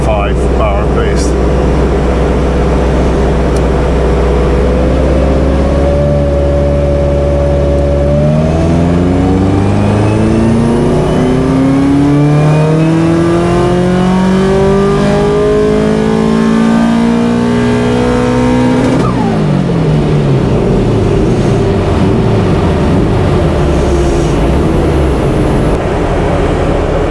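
Subaru Impreza STi bugeye, a 500+ bhp JDM build, revving hard on a dyno at about 2 bar of boost, its engine note climbing steadily in pitch over several seconds, then cutting off sharply and settling back, loud and close.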